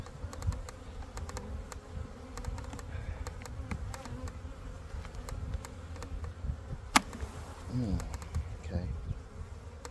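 Honey bees buzz in a dense, steady swarm as a new package of bees is installed into a hive, close and continuous, with a person briefly speaking over it.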